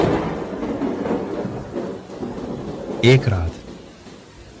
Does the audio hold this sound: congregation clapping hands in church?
no